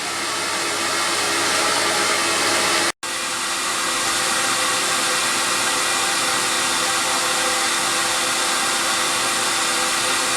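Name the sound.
CamVac dust extraction system venting air outside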